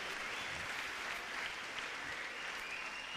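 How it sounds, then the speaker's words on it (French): A church congregation in Gabon claps together in a sustained, dense wash of applause that stays even and fairly distant from start to finish, with no distinct voices rising above it. "Let's clap for the word of God."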